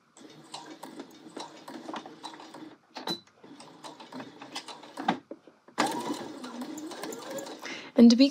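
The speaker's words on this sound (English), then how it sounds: "we're gonna sew this last corner of the welt, making sure everything is really smooth." Sewing machine stitching the last corner of a jacket welt through the welt, jacket body and seam allowances, a close, quiet run of rapid needle ticks broken by short pauses, with someone talking over it.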